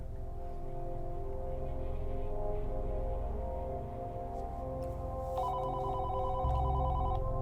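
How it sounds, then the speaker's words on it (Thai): A phone rings in a horror video game, Flash and Die demo, with a steady electronic trill over a constant background hum, the ringing pattern growing more distinct toward the end. "เกมเริ่มมาด้วยเสียงโทรศัพท์ครับ"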